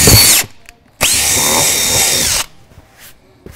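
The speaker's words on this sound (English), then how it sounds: "I'm gonna take the drill." A power drill bores into a van door during a van lock install: a short loud burst, a brief pause, then a steady whirring run of about a second and a half before it stops, close up.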